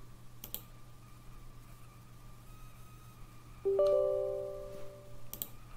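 A computer mouse gives a few quiet, sharp clicks spaced apart in a hushed room, followed by a short system chime that rings out and fades.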